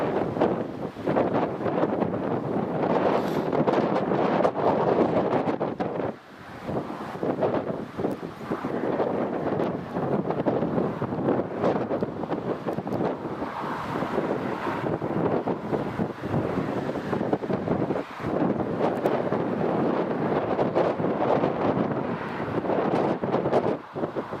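Steady, loud wind buffeting the microphone outdoors at Newcastle Airport, a continuous roar with brief lulls and no aircraft clearly standing out.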